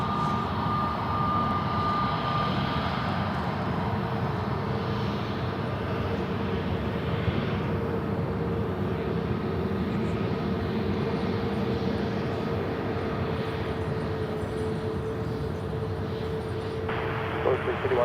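An eight-year-old Airbus A321neo at Charlotte airport gives a continuous, steady jet engine roar at a moderate distance. The roar stays loud throughout, with a faint radio-like voice under it.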